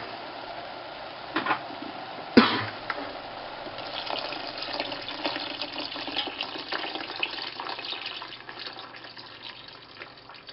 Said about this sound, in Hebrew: וזה השלב להוסיף מים.